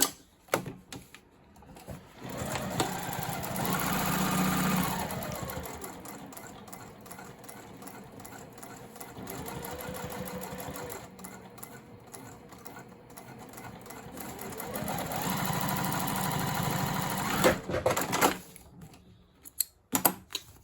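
A sewing machine runs a curved topstitch on a handmade sling bag, humming steadily in long stretches with a few brief pauses and rapid needle clatter, close and alone.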